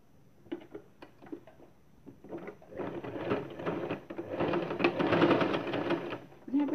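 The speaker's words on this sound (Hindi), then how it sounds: "इसके ऊपर ऐसे करके स्टिच करनी है" A sewing machine stitches a cloth face mask at home, first in short separate bursts, then in a longer steady run of rapid needle clatter at close range.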